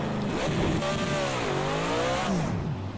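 A 1991 DTM race car spinning out in Project CARS 2 during qualifying, its engine whining and sliding in loud, continuous pitch sweeps with tire noise, close and dominant throughout.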